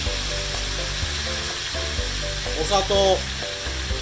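Tofu steak sizzles steadily in a frying pan as seasonings are added, a constant close crackle under a voice speaking briefly.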